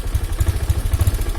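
A Honda Genio scooter engine with a rough-sounding, faulty motor is revved, giving a loud, low, pulsing engine drone with regular thumping beats throughout, close by and with no talk over it.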